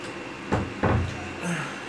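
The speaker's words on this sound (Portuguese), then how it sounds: "Deixa eu fechar a porta aqui." A door is shut indoors, giving a couple of close thumping knocks and a brief rattle over a quiet room background.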